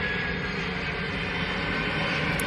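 An airplane passes overhead, its engine roar forming a loud, continuous drone that holds steady for the whole stretch.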